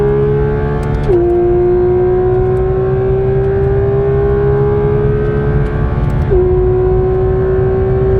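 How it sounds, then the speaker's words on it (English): A Porsche GT3 RS engine screams at high revs on the Nürburgring, a loud, steady sustained note with two quick upshifts where the pitch dips and climbs again, heard from close inside the car. "Oh, what a glorious engine."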